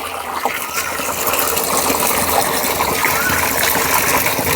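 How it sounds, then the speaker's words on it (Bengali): Water being poured and mixed into a mycorrhiza preparation, a steady gushing, splashing wash close by that keeps going for the whole stretch without a break. "আরেকটু জল মিশিয়ে দিচ্ছি"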